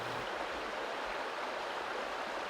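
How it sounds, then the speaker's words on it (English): A river in a valley in winter, running high after heavy rain, gives a steady faint rushing wash of flowing water with no other sounds. "Just the sound of the river and the odd robin to keep me company."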